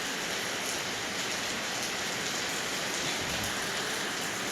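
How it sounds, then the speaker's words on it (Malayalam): Heavy rain pours steadily, a dense, even hiss of water on surfaces that holds without pause from start to finish. "നല്ല മഴ ആണ്."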